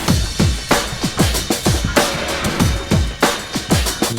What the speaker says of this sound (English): Alright, together the drums sound like this.